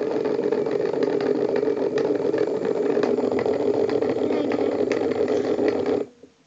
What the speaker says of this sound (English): I think it's just like a little fan, which you could have in your room.